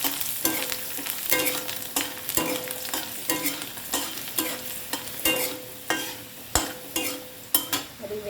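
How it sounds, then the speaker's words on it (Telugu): Garlic fries in a pan with papaya, a steady sizzle punctuated by regular clinking spatula strokes about once per second, close and clear with no talk. "ఇందులో మనం వెల్లుల్లిపాయలు గార్లిక్ వేసి వేయించుకోవాలి"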